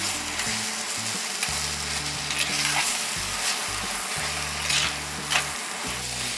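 Spices with turmeric and chili powder sizzle and crackle in hot oil for shahi paneer, a steady frying hiss over a low, repeating musical backing.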